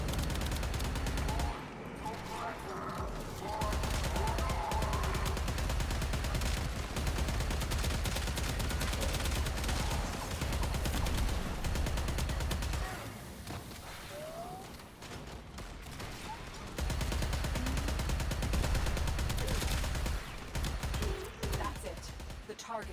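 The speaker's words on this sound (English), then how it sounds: "Stop shooting me, you stupid turret." Rapid gunfire from a hostile turret in the sci-fi shooter Warframe, firing at the player character in bursts with short pauses, loud and close, over layered game sound effects and an occasional voice.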